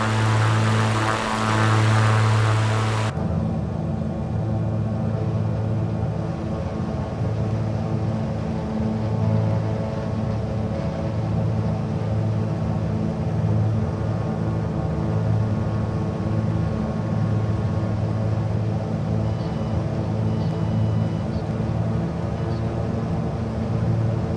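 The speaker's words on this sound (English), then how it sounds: "we can start making our right turn in for runway 24 right at Toronto Pearson. See if we can nail this landing" Steady propeller aircraft drone during a right turn onto final approach for runway 24R at Toronto Pearson, a loud continuous engine hum that holds level throughout with a brief brighter burst at the start.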